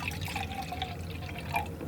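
Water sloshing and trickling in an old canteen used for watercolor painting, a close, continuous liquid gurgle with small drips and splashes, no voices.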